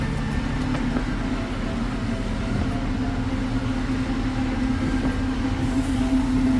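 Safari ride train at Disney's Animal Kingdom rumbles steadily along the track, a continuous loud low drone with faint clickety-clack of the wagons, heard from aboard near the front.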